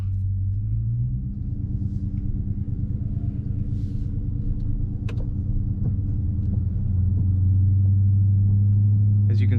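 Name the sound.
2022 Dodge Charger Scat Pack engine and exhaust in eco mode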